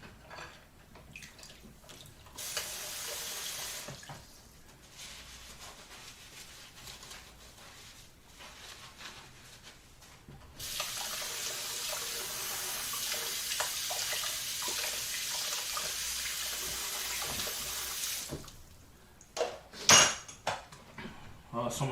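Tap water runs into a kitchen sink in bursts, a steady hiss that starts and stops several times, with dishes and cutlery clinking now and then, while taco night is being cooked.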